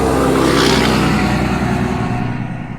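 A truck passes on a street, a loud, close roar that swells briefly and then fades over a few seconds.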